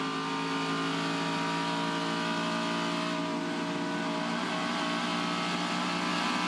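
A Falcon muscle race car engine screams down the Conrod Straight at Mount Panorama, Bathurst, a loud sustained high-revving tone held flat out with no break.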